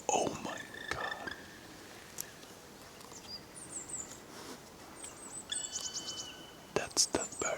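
Bird calling in a Swedish forest, a few thin, high chirps and whistled notes scattered over a quiet outdoor background, with a soft whispering voice heard at times.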